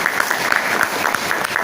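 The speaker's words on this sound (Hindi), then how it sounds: "उनके लिए भी जोरदार तालियां।" Enthusiastic applause from a crowd at an event honoring speakers and leadership, a dense steady patter of many hands with a few sharper claps standing out, brief and alone without talk.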